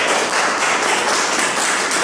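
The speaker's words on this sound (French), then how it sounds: "Applaudissez-vous s'il vous plaît," An audience at a public reading applauds, a dense, steady wash of clapping that stays loud and even for the whole stretch with no voices standing out.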